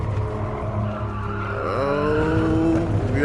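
Toyota Supra in a VR racing game under throttle, a continuous loud engine note with tire skid and squeal, pitch climbing and sweeping upward through the second half, with no talk.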